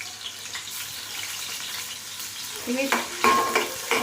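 Chopped onions with ginger garlic paste frying in a pan, a close steady sizzle that grows louder with stirring scrapes near the end and a brief spoken word.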